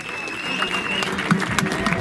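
Audience clapping at a Paralympic sports day event in Crispiano, applause building steadily over about two seconds with crowd noise and some voices mixed in.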